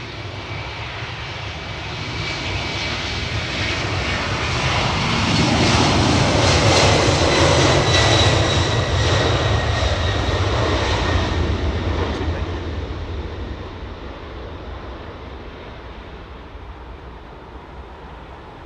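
A jet airliner departs from Heathrow, its engine roar swelling to a loud peak midway and then slowly fading as it climbs away, a sustained broadband rumble with faint voices underneath.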